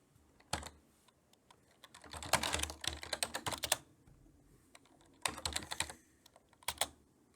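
Clacky bursts of computer keyboard typing, including presses of F keys on a PC running the PCem emulator, heard as sharp isolated taps and quick flurries with quiet gaps between.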